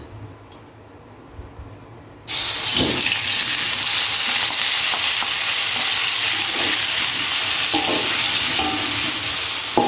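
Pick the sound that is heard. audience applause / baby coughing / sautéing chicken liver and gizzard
sautéing chicken liver and gizzard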